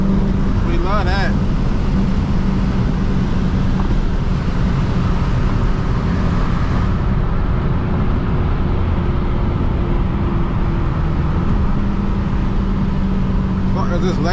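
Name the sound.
SRT 392 car with Borla ATAK exhaust driving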